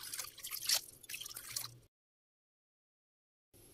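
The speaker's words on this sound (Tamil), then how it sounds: "இந்த டம்ளர்ல நான் வந்து 2 டம்ளர் அளவுக்கு தண்ணி எடுத்துக்க போறேன்." Water poured from a tumbler for cooking ragi chapati splashes and trickles in two short bursts. A stretch of silence follows.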